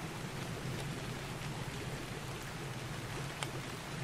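Rain falls steadily in the survival game ARK Ascended, a soft, even hiss of drops with a low watery wash underneath and no voices, constant from start to finish.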